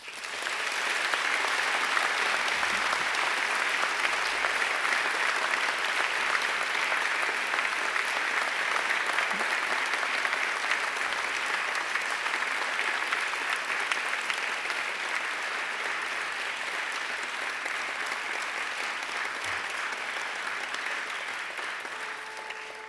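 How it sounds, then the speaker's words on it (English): Graduates at a university graduation ceremony applaud their families and friends, a dense, sustained round of clapping from a large crowd that holds steady for over twenty seconds and tapers slightly at the end. "give them a mighty round of applause"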